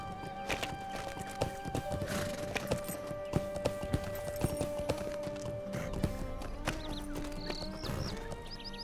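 Horse hooves clip-clop in a steady walking rhythm in a video game, with occasional neighs and bright musical tones layered over the hoofbeats.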